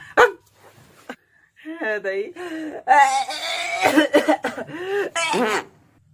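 A person coughs harshly at the start, followed by strained, raspy vocal sounds and talking.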